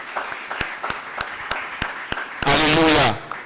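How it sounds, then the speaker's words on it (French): A church congregation responds to a reading, with a few spaced single claps building into a short burst of applause that fills the room, then fades. "On acclame la parole du Seigneur."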